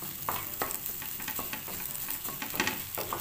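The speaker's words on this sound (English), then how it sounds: "Just mix this spring onion and just 30 seconds and finish." Samosa filling with spring onion being stirred in a pan, soft scraping spoon strokes at an uneven pace over a gentle sizzle.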